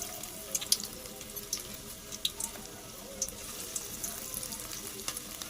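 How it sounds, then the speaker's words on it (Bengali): Semolina and egg pakora batter frying in hot oil in a wok, giving a steady close sizzle with scattered crackles and pops throughout and no talking. "সেটা এবার কড়াই তেলের মধ্যে দিয়ে দিচ্ছি।"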